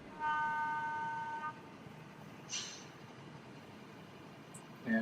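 A Bachmann model locomotive with a GE-style air compressor sounds its horn, a steady tonal toot lasting about a second, followed by faint hissing and small clicks over quiet background noise.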